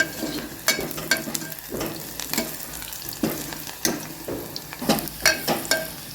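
Chopped onion sautés in a pan with a continuous sizzle, broken by repeated scraping and stirring strokes of a spatula at an irregular rhythm, close and fairly loud.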